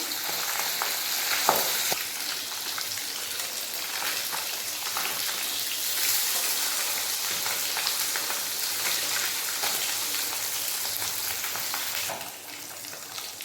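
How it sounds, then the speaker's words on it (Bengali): Pabda fish sizzle and spatter as they fry in hot mustard oil, a dense, steady crackle close by that carries on evenly and softens slightly in the last second. "মাছগুলো ভাজা হয়ে গেছে এরপর তুলে নেব"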